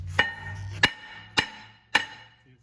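Four sharp metallic hammer blows on a Jeep Grand Cherokee rear brake rotor ring out at an even pace, each strike clanging with a brief ringing tail, close and loud.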